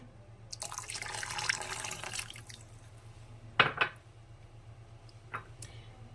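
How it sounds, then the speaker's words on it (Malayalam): Kokum (Malabar tamarind) juice pours into a pan for a couple of seconds, followed by a few light clinks and quiet splashes in a calm room. "കുടംപുളിയുടെ ജ്യൂസും കൂടി ഒഴിക്കുകയാണ്"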